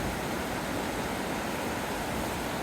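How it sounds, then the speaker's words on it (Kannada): River water flowing at the Kudala Sangama confluence, where two streams meet: a steady broadband rush, constant and moderately loud, with no voices over it. "ಇಲ್ಲಿ ಎರಡು ಕಡೆಯಿಂದ ನೀರು ಬಂದು ಒಂದು ಕಡೆ ಹೊಂಟಿದಾವ."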